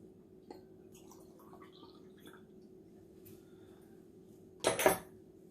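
Water is poured into a big beaker while a solution for a strawberry DNA extraction is mixed, giving a short, close splash near the end after quiet clinks of glassware.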